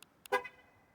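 A Nissan car horn chirps as the car locks by remote: two tiny ticks, then one short, clear toot that fades quickly, faint and a little distant, with nothing else around.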